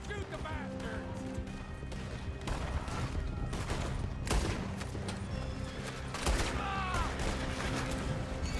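Gunfire during a chase in Red Dead Redemption 2, a run of sharp overlapping shots and cracks over galloping horses, neighing and shouting voices.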